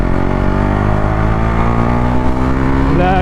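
A Duke 390 BS4 motorcycle being ridden hard, its engine droning loudly and steadily with a rising rev toward the end, close and continuous with no talk.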